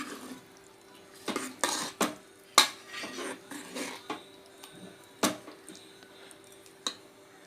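A spoon stirs boiled papaya through a Tamil-style papaya kootu in a metal pan, producing sparse, quiet clinks and scrapes in irregular bursts over a hushed kitchen background.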